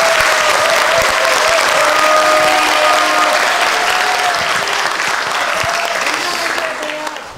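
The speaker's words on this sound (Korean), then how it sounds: "다시 한번 큰 박수 부탁드립니다." A forum audience at a lecture gives a long, loud round of applause that holds steady before fading slightly at the end, with some voices murmuring underneath.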